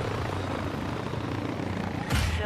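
Helicopter rotor chop from a Call of Duty: Modern Warfare 2 match, a steady loud whirring drone throughout with a brief louder burst near the end.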